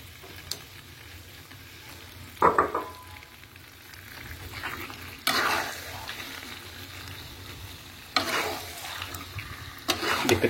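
Rendang of fern and chicken cooking in a pan, a low steady sizzle punctuated by several louder bursts of stirring and scraping, with quiet talk in places.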